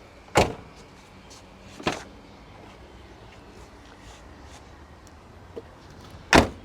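Car doors on an old Volkswagen Golf Mk2 open with sharp clunks, three loud thuds spaced over several seconds and a faint click between, close by with no talking.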